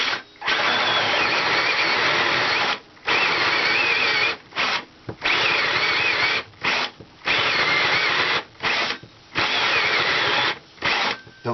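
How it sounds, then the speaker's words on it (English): A power drill bores a hole into an RV converter box in repeated close, loud bursts of whining motor and bit grinding, separated by brief pauses, with no talk. "Hope this drill has the power for this."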